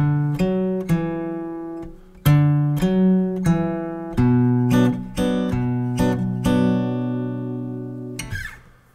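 An acoustic guitar plays the chorus of a song alone, a run of plucked and strummed notes and chords with clear ringing sustain and a final quick strum.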